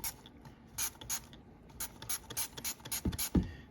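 A series of short, sharp spray bursts of cleaner hiss from a trigger bottle onto vintage Kenner Star Wars action figures in irregular rhythm, close by, followed by a couple of low thumps.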